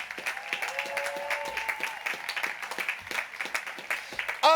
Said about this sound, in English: One more rousing round of applause for the class of 2020.